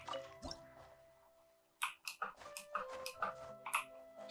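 Water droplets dripping from a wall in a video game make soft, close drips and ticks in an irregular sequence, quiet at first and then a busier cluster of plinks over faint tonal music.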